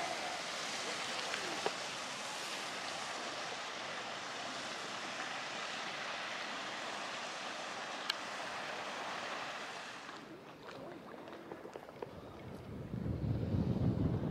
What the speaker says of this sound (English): Actually, that wind has picked up a little bit now.